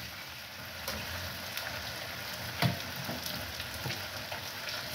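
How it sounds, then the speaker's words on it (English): Boiled eggs frying in a pan make a soft, steady sizzle with faint crackles and an occasional stir or light knock, close and quiet, with no one talking. "Hii ni yai boilo tunakaranga"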